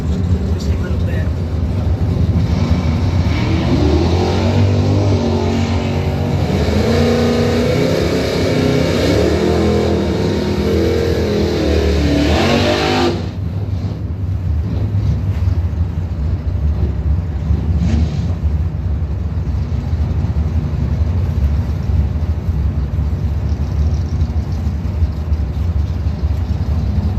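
Purple Mopar drag race car with an oil leak revving loudly in the staging lanes, a steady dense engine roar that runs through the whole stretch, joined by an announcer talking over a PA.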